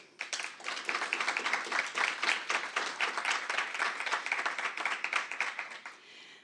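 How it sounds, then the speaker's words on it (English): An audience at a project launch event gives a round of applause, a dense, even patter of many hands clapping steadily for six seconds before stopping abruptly. "they deserve our appreciation and a round of applause"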